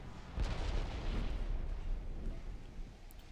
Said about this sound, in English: 2 torpedoes on target.